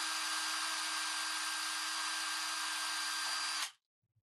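A hand-held power drill whirs steadily at high speed drilling an enclosure, a constant buzzing grind that cuts off abruptly near the end, leaving near silence.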